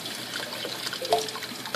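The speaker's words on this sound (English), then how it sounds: "while running it under cold water" Cold tap water trickles softly over a boiled egg as its shell is peeled away, a faint, brief, close-up stream with a few small splashes.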